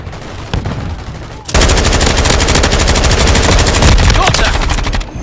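Rapid automatic gunfire in Call of Duty Modern Warfare breaks out loud and close after a quieter opening with a few faint shots, hammering steadily for several seconds.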